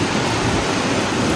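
Heavy rain pouring down in Canada, a dense, steady hiss of falling water with no breaks, loud and close.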